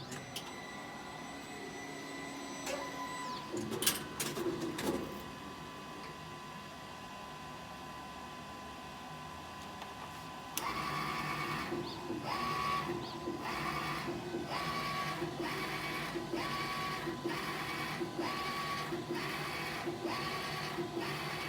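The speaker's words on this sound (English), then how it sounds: "We're gonna do a nozzle check, right?" A Brother GT-361 direct-to-garment printer runs a nozzle check after a print head replacement, starting with a steady mechanical hum and clicks, then shifting into louder whirring with evenly spaced short tones as the head passes.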